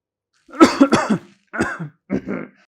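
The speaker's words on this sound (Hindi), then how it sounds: "आपकी खांसी अभी तक ठीक नहीं हुई?" A few close, harsh coughs come in three bursts, the first a rapid double cough followed by two shorter single coughs.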